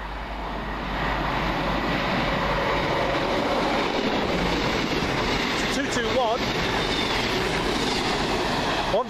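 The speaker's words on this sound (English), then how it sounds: "Just about to come through for cross country on the slow line, which is rare for cross country" A CrossCountry passenger train running from Bournemouth to Manchester Piccadilly passes close by on the slow line at Heaton Chapel, giving a loud, sustained rumble with rail noise and brief wheel squeals.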